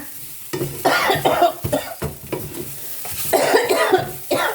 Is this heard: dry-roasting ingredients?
yes